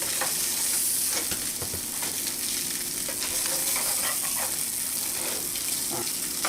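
SPAM slices fry in a pan with a steady, close sizzle and crackle, broken by scattered scraping and stirring knocks as they are turned; nobody speaks.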